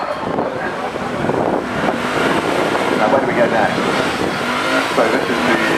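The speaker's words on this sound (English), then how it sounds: "This is the Lexus RCF Track Edition, which is about to be unleashed properly and stop for a new set of rears." A Lexus RC F Track Edition held for a burnout at the Goodwood Festival of Speed, a dense, steady engine roar with wind buffeting and possible tire noise, mixed with crowd and voice murmur.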